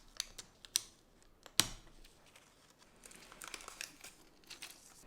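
A scalpel-like craft knife cutting and peeling a dotted Japanese manga screentone sheet: sparse sharp ticks and one loud crackling snap, then a stretch of soft scratchy rustling close up, with no voices.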